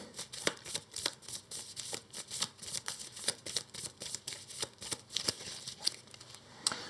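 Board game cards are shuffled by hand in a quick, crisp run of riffling and sliding bursts, close and fairly quiet, with no talking.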